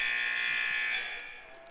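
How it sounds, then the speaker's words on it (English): Game-clock buzzer at a middle school boys basketball game in Burlington sounds one sustained, loud electronic tone ending the first quarter, then fades as the gym noise carries on. "Buzzer goes off here in Burlington"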